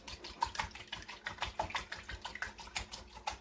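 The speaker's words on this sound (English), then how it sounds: "the more and more I whisk, it's a little bit less thick" Homemade hand sanitizer mixture being whisked in a bowl, giving a quick run of rhythmic wet clicks and splashy strokes, close and moderately quiet with no voices.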